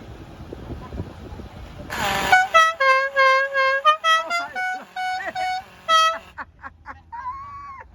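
A truck air horn honks in a rapid series of short, loud, musical blasts, pausing briefly before a final few toots.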